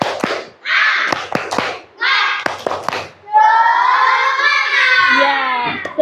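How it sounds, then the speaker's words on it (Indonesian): Schoolchildren in an Indonesian classroom perform a rhythmic spirit clap: sharp patterned claps in short bursts, interleaved with loud chanting voices, ending in a sustained group shout. "yuk tepuk semangat"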